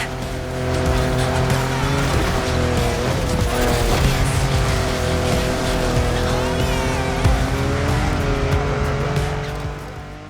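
A car racing in The Crew Motorfest, its engine droning steadily loud throughout with rising and falling pitch, tires briefly squealing and skidding during sharp maneuvers.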